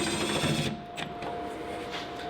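A power tool whirs loudly while tightening tailgate screws on a Ford Maverick, then drops to a softer steady whine with a couple of brief clicks, close to the mic.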